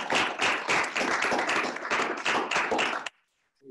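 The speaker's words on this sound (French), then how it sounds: "je crois qu'on peut encore vous applaudir" Audience applause fills the hall at the close of a lecture, a dense steady clapping that runs for about three seconds and then stops abruptly, leaving near silence and a brief low thump.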